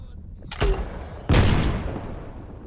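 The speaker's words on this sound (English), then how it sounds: "I like how the barrel on this gun reciprocates when you shoot a grenade launcher" Two heavy booming shots from a grenade launcher in a video game, each a sharp blast followed by a rumbling tail, the second louder and longer, with quiet game background noise between them.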